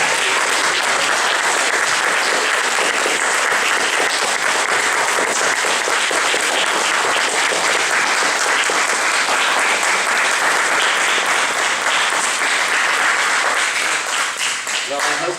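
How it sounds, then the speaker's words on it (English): Sustained, loud audience applause fills a school auditorium after a 7th/8th grade debate round, dense steady clapping from start to finish with no break. "I think one more round of applause would be."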